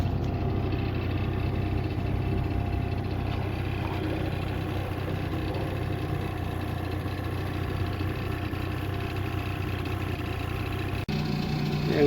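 A motorcycle engine idles in a parking area, a low, steady mechanical hum that runs evenly throughout with no revving.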